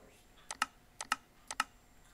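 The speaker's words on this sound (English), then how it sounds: "I have a Red Dragon keyboard" Keys clack on a Red Dragon computer keyboard in three quick double taps, evenly spaced, crisp but faint and close up against a quiet room.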